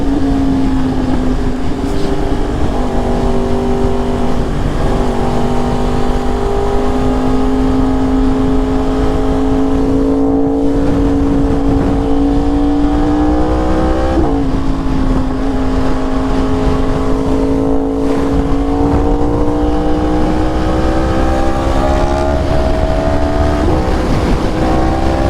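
A Yamaha R1 motorcycle engine heard while riding in Houston, a loud, steady drone that rises in pitch through gear changes with brief dips, close and continuous with wind rush and little talk.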